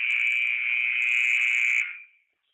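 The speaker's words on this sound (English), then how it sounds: "Buzzer's going to sound out right close to now" A basketball arena's horn blares a single sustained, loud electronic tone for about two seconds to end halftime of a boys high school game, then cuts off into silence.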